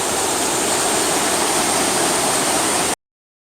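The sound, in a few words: water flowing over a canal dam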